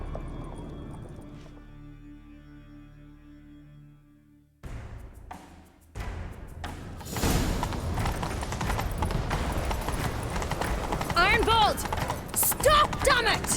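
Hooves clatter in a fast rhythm as a horse gallops in the Witcher 3 video game, starting after a quiet musical opening and building louder under game sound effects and music.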